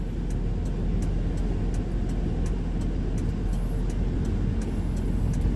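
A manual car engine labors up a slope on a driving-test road course before the shift to second gear, giving a steady low, moderate hum with faint intermittent clicks over it and no talk.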